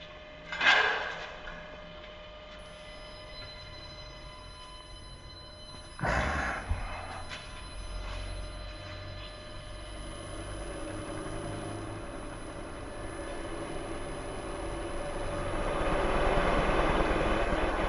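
A wind generator test machine switches on with a sharp start, then runs as a low, steady drone that slowly swells louder over several seconds, with no talking.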